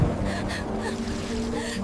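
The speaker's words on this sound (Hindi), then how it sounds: "बाहर से तेज हवा और बारिश की गरज महल की दीवारों से टकरा रही थी।" Strong wind and heavy rain buffet palace walls on a stormy night, a steady broadband roar of gusts and downpour filling the whole stretch with low rumbling underneath.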